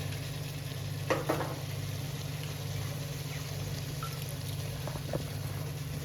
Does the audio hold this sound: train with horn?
no